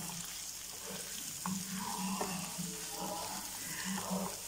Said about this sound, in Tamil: மஞ்சள் பொடி போட்டு நல்லா வதக்குங்க